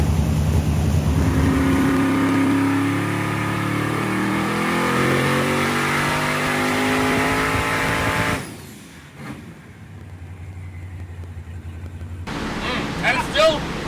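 A turbocharged big block engine in a bus revs hard during a run, with loud rising harmonics for about eight seconds, then a sudden drop to a low idle before another short rev.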